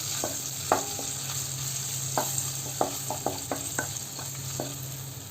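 Okra for a Kerala-style curd curry sautés in a pan, a steady sizzle with repeated clinks and scrapes of a spoon stirring close by.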